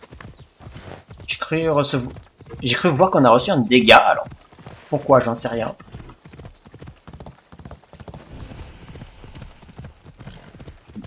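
Horse hooves galloping in the Assassin's Creed video game, a steady rhythmic clip-clop running throughout beneath someone speaking French in the foreground.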